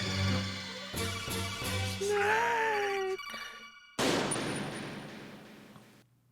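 FAMAS gunfire in Metal Gear Solid, sounding as a close, loud burst of shots followed by tonal game effects and a second loud blast that decays into noise.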